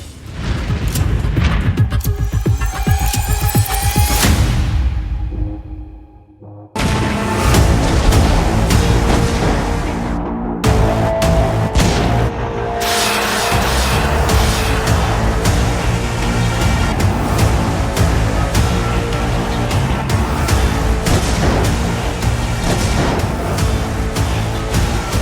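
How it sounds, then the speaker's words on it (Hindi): Heavy booming blasts from a Shahed drone strike and bomb explosion roll through, dense rumbling bursts with a brief near-silent gap before a renewed loud roar that continues to the end. "पुतिन के शाहिद ड्रोन धमाके से उठा बारूदी बवंडर है ये बम धमाका"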